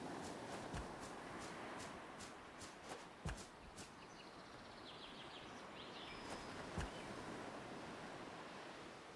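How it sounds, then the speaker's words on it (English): Ocean surf ambience from an island survival video game, a steady soft wash of waves with a few faint thumps and clicks over it, quiet and continuous without talk. "Do we hear the ocean?"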